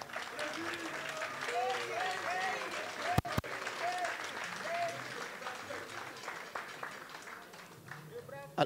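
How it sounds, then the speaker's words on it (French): Audience applauding for Mr. Leba at the official launch of Ivoire Yako, steady sustained clapping from a crowd under a mix of voices and background music, with a sharp knock midway. "acclamez M. Leba."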